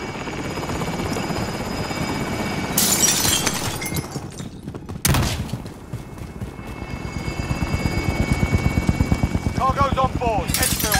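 A helicopter in a video game thumps with a fast, steady rotor beat up close for the whole stretch, broken by sharp crashing bursts, with voices speaking over it.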